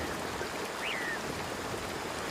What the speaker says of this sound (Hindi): जैसे जैसे बारिश तेज होती गई